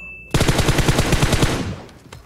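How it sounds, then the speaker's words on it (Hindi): Rapid automatic gunfire in the PUBG battle royale game, a loud sustained burst of closely spaced shots that cuts in abruptly and then tapers off, with no talking. "टीम नंबर 11 की तरफ से फायरिंग चल रही है"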